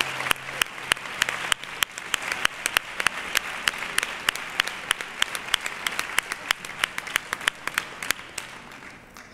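Applause for the 2024 carnival queen at the Nerva carnival coronation ceremony, a steady crowd clapping with sharp, evenly spaced claps standing out near the microphone throughout.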